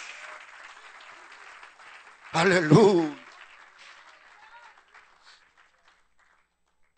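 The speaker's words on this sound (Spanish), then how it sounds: "Dale un aplauso al Señor Jesús." An evangelical crusade congregation applauds for Jesus, a fading wash of clapping that tapers off into quiet, with a loud shouted voice rising briefly over it near the middle.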